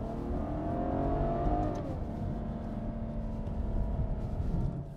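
A V12 Ferrari, a heavy grand tourer of about 1800 kg, driven hard along a twisting mountain road, its engine droning continuously with pitch rising and easing as it accelerates, heard steadily from inside the car.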